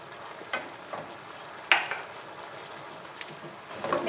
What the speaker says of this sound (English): Before serving, gotta be really sizzling.